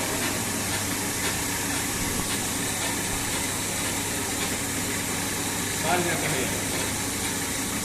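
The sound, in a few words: Pelton turbine hydro generator running under load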